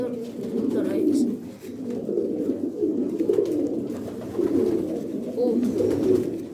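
Pigeons in a loft keep up a continuous, overlapping low cooing in rolling waves, close and fairly loud.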